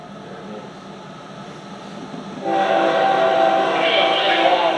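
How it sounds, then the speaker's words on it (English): A CSX freight train carrying UPS containers and 53-foot container cars rolls past steadily, its rumble and rail noise swelling suddenly louder midway and holding a dense, continuous roar to the end. "My favorite train on CSX."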